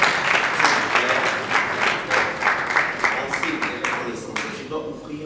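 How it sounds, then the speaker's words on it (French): An audience at an evening church-style gathering claps together, a dense rippling applause with some louder individual claps, while a voice speaks over it and fades near the end. "Est-ce qu'on peut applaudir,"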